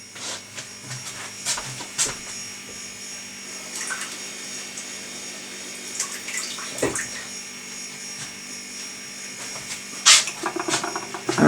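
Water runs onto a small spongy pad during a welder repair, making a soft, continuous splashing hiss broken by occasional louder spurts, close by with no voices.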